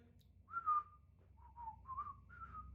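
A person whistles a short, wavering tune of a few sustained notes, soft and close, with quiet pauses between phrases and no talking.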